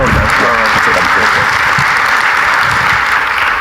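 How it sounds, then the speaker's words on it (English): A church congregation breaks into loud, dense applause after a service talk, continuous clapping close and steady throughout, with murmured voices mixed in at the start. "Let's give a round of applause"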